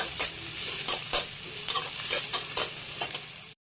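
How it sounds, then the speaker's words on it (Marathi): Chopped capsicum frying in oil for paneer bhurji sizzles loudly and close, broken by repeated scraping stirs of a spatula every half second or so, with no voices, then cuts off abruptly. "त्यात मी घातली शिमला मिरची. चांगलं तेल सुटोपर्यंत आपल्याला हे भाजून घ्यायचं आहे."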